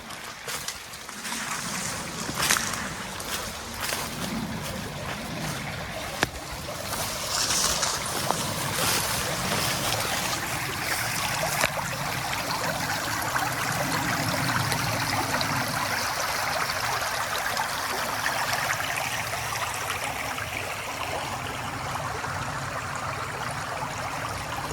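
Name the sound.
creek water flowing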